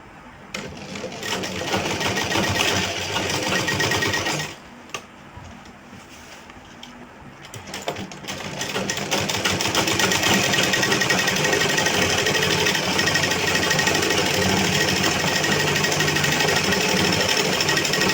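A sewing machine stitches elastic onto a circular plazo, whirring in a fast even rattle that pauses briefly midway, then resumes in a longer, steady run.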